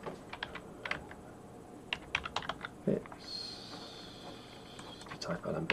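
Computer keyboard typing, with bursts of close clicky keystrokes and short pauses, plus a brief higher whine partway through.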